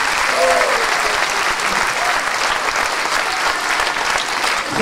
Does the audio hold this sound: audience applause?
yes